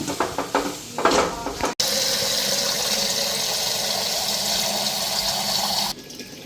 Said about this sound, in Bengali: তো ওইদিকে ফিল্টারও জল দিয়ে দিতেছি।